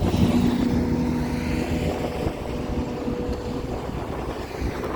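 An Optare Solo bus with a Cummins engine rumbles past at moderate distance, a low engine drone mixed with wind noise, fading slightly over a few seconds.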